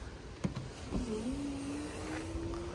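A quiet electric motor whirs steadily as the powered trunk lid of a Mercedes-Benz W221 S550 slowly lowers, preceded by a couple of soft clicks, close by with no talking.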